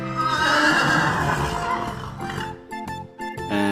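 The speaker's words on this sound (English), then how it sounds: "This is a beautiful colt." A 23-month-old colt on a rural Indian farm lets out a loud, close neigh that rises and wavers before trailing off into short snorts and breaths.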